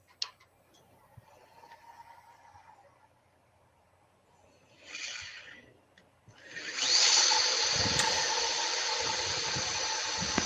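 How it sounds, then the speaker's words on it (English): A power sander with 120 grit paper works the outside of a walnut platter on a lathe, starting after quiet tool ticks and a brief burst, then a loud, sustained whirring grind to the end. "And now I'll go ahead and do some sanding on the outside."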